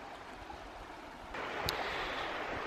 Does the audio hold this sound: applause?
no